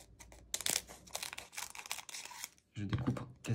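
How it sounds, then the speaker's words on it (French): Scissors cutting through the foil of a stubborn trading card booster pack, crisp snips and crinkling close up, then a low murmur of speech near the end. "On va prendre les ciseaux."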